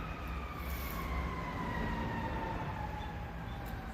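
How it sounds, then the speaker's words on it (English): A fire-engine siren wails in long, slowly falling sweeps over the steady rumble of a truck, fairly distant and continuous, with no one speaking. "I'm going to let that siren go by."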